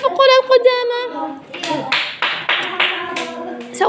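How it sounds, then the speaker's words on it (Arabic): Children in a classroom clap for a classmate after he answers a sum correctly, bursts of scattered hand claps mixed with young voices and a teacher speaking nearby. "صفقوا للقدامى"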